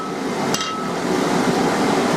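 Hammer striking steel stock on an anvil while forging tongs, one sharp ringing metallic blow near the start, followed by a steady hiss of workshop background.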